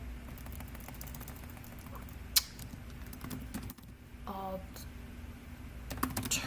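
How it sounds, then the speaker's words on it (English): Keys clatter on a computer keyboard in quiet, irregular bursts of typing at an Etsy listing search, close and soft with a few sharper clicks. "Actually, you know what I would do? I would type in DIY"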